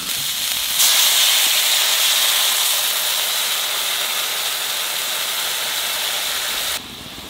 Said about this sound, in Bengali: জলে জাল উঠে গেছে